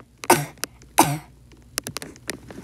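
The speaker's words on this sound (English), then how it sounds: "Sorry, I had a cough." Two heavy, raspy coughs close by, followed by faint clicks and small noises in an otherwise quiet room.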